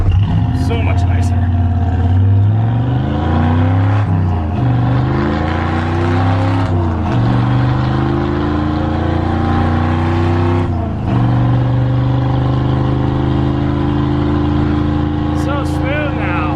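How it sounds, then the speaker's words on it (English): A Ford Galaxie with a new drive shaft U-joint drives along, its engine droning steadily from inside the car with pitch rising and falling through gear changes, loud and continuous throughout. "This thing is so much smoother with a new drive shaft U-joint."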